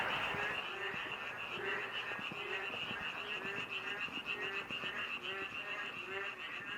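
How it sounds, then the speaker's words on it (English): A dense chorus of frogs croaks at night on Jeju Island, Korea, with rapid pulsing calls layered over a constant high trill, steady and moderately distant. "I think it's frogs versus frogs."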